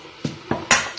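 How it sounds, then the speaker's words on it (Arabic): A spoon clinking against a bowl while mixing dry pizza dough ingredients such as sugar and yeast, three quick separate scrapes and taps, close and clear. "نخلطو المقادير الجافه مع بعض"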